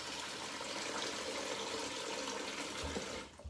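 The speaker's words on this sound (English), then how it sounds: "I've got the kettle full of water still. I'll put that in as well." Water from a kettle pours into a container in a continuous, close gushing rush that holds steady before tapering off at the end.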